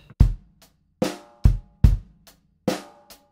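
An acoustic drum kit plays an eighth-note rock groove with hi-hat, bass drum and a standard snare backbeat on 2 and 4, heard as a handful of loud, separate strikes that ring out briefly.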